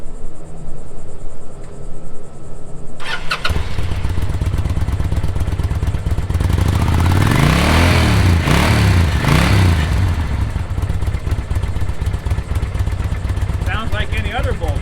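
A Kawasaki Vulcan Drifter's V-twin engine fires up a few seconds in and settles into a close, chugging idle. It rises in a couple of revs midway before falling back to a steady rumble.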